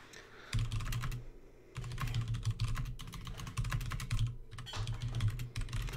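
Rapid clacking of computer keyboard keys in bursts of fast typing, close and fairly loud, broken by a couple of short pauses between flurries.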